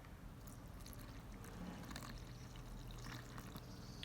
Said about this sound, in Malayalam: 1 കപ്പ് പാൽ ഒഴിച്ചു കൊടുക്കാം കേട്ടോ.